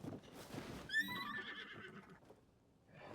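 A horse in the video game Zelda: Tears of the Kingdom gives a loud, clear whinny that rises and trails off over about a second, with clip-clop hoofbeats in the background.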